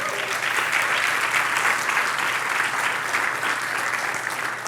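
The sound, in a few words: congregation applause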